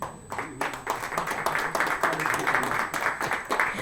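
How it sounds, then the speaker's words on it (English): An audience at a loan app company presentation claps for a few seconds, a fairly close, steady burst of applause with faint voices mixed in. "we can give a clap"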